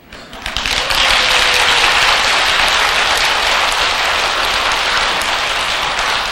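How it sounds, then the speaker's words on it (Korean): Applause from the audience at a Buddhist temple's Lunar New Year spring dharma service, a dense, steady roar of many hands clapping that swells within the first second and holds loud and even to the end. "그런데 그 정도 박수 갖고는 안 돼."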